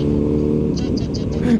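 Road traffic heard from a Kawasaki ZH2 big bike, with a steady engine drone and passing vehicles nearby, and someone talking over it.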